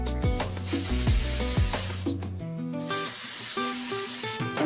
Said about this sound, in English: Take a little hairspray